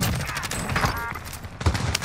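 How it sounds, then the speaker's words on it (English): Rapid gunfire in a video game firefight, dense bursts of close shots crackling over a continuous din, with a louder burst near the end. "I'm getting shot from behind."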